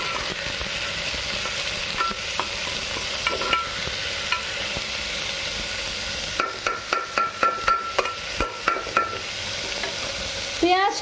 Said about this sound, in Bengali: এবার খুব ভালো করে এটাকে ভেজে নেব।